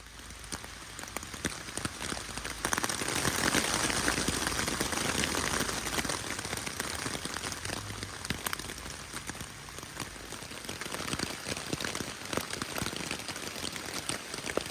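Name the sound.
heavy rain on a tent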